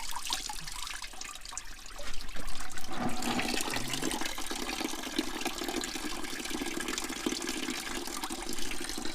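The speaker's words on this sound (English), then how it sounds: "We'll just let that run through until it comes clean." Water runs steadily through a grimy car radiator during a pre-winter antifreeze change, a continuous gushing rush that starts softer and grows louder after a couple of seconds, then keeps flowing evenly with no talk.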